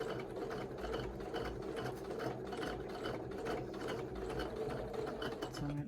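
A sewing machine stitches an ornament, its continuous rapid needle chatter and motor whir running loud and steady, close by, with no pauses.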